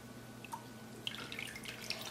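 Whey drips from a cloth-wrapped fresh cheese being squeezed by hand, a few faint, soft drops and trickles close by in a quiet room.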